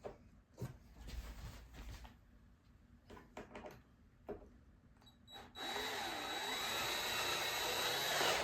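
A power drill drives a screw through a wood shim on a sliding door, preceded by scattered knocks and handling noises, then a steady, loud whine that continues to the end.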